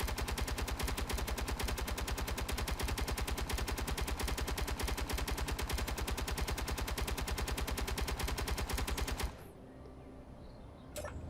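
Interior turrets firing in the Space Engineers video game, a dense, unbroken rapid burst of automatic gunfire lasting about nine seconds, loud and close, then stopping abruptly into a quieter background hum.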